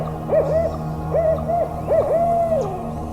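An owl hoots in three clear, repeated phrases, each a wavering tonal call, the last drawn out longer, heard alone over a low steady forest background.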